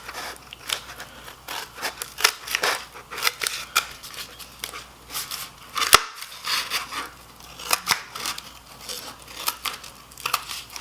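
Scissors cut out a paper Yoshi craft, making a string of close, crisp snips in an irregular rhythm, with brief rustles of paper between the cuts.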